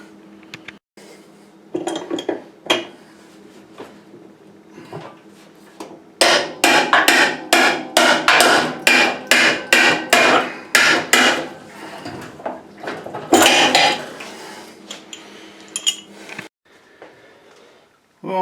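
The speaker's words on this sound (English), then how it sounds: "I'm just going to place a pipe wrench on here and then go ahead and turn it clockwise while I'm holding the drum here" A pipe wrench works a stripped nut off the drum of a GE washer during a tub seal replacement, giving a run of sharp metallic clanks and knocks in quick bursts, close and loud.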